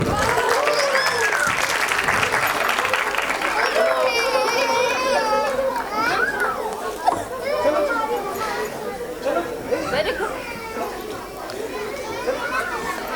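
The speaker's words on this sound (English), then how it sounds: "Let's give a big round of applause." An audience claps at a nursery school annual function, with steady applause mixed with lively children's voices, chatter and a crying infant, crowd noise filling the whole stretch.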